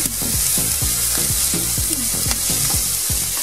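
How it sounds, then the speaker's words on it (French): Chopped onions for a bolognese sauce sizzle steadily in a hot pan, a loud, continuous frying hiss broken by a series of low scraping knocks as a utensil stirs them, with no voices. "on va attendre que les oignons blondissent, on les fait pas rougir, on les fait pas cuire"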